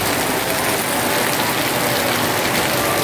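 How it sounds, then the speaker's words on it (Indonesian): Heavy, dense December rain pours down in a steady, loud roar of broadband hiss that stays constant throughout, with no voices heard. "Hujan memang di bulan Desember"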